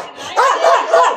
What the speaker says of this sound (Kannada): ಈ ನಾಯಿ ನಾನು ಯಾವಾಗ ನೋಡ್ರು ಬೊಗಳ್ತಾ ಇರ್ತದೆ.